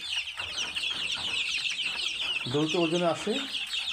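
Large hill-breed chickens on a farm cluck steadily throughout, with a louder drawn-out call rising near the end, close and continuous.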